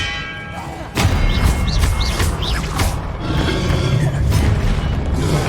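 Protego shield spell in Hogwarts Legacy, a sudden heavy magical thud with a ringing, bell-like shimmer and whooshing sweeps during a spell duel, followed by further rumbling impacts and faint voices.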